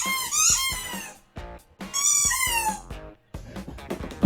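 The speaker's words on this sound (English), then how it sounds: "She hates the squeaking sound." A dog toy squeaks repeatedly and loudly in quick bursts and pairs as a dog chews it indoors, with brief pauses between squeezes.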